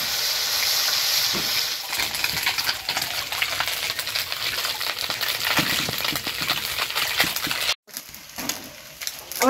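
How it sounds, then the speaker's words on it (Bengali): Small gura fish coated in salt and turmeric spit and sizzle in hot mustard oil in a tawa, a steady close frying hiss with brief crackles, and there is no talk. "নুন হলুদ দিয়ে মাখানো মাছটা তেলে দিয়ে দিব।"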